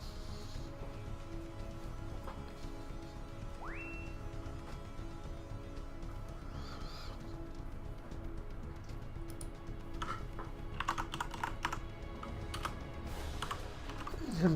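Continuous, quiet clicking of computer keyboard keys runs throughout, with irregular bursts of keystrokes over a soft steady background hum and a few brief game sounds.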